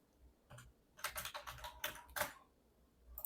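Clattering keystrokes on a computer keyboard, in short irregular bursts of quick taps with brief pauses, close and moderately loud, with no voices over them.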